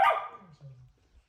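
A dog barks sharply at its own reflection: one loud, close bark that trails off into a short lower whine, with a faint voice nearby.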